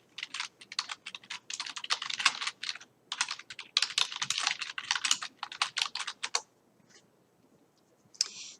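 Keys clatter on a computer keyboard in fast, uneven bursts of typing with a few short pauses. After a longer gap, one last brief flurry of keystrokes follows, close and fairly quiet.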